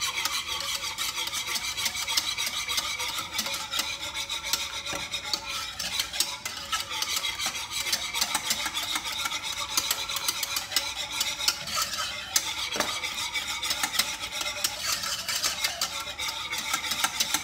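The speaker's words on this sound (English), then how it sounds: "you gotta stir, you cannot stop stirring" Continuous scraping and rasping as a spoon stirs an egg yolk mixture for Puerto Rican coquito in a pot on the stove, steady and close, with no pause.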